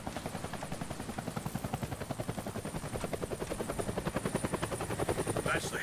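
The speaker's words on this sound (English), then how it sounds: "That's the helicopter chasing my friends." Helicopter in the video game Deadlight, a loud, steady rotor thudding that pulses rapidly and evenly throughout with a whining engine tone, no voices over it.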